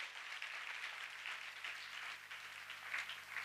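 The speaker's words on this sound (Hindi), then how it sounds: "ताली बजा के खुदा की महिमा करे" A church congregation claps their hands together in praise, a dense, steady wash of applause that holds at an even level throughout with no talk over it.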